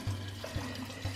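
Water is poured into a lemon mixture with honey or sugar for homemade elderflower socata, a soft, faint trickle with a few gentle splashes.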